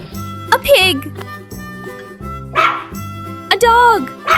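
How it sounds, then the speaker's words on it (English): A toy farm-animal puzzle bus sounds a dog's bark: several short, sharp yips and woofs spaced across the clip, mixed with electronic toy tones. "A dog!"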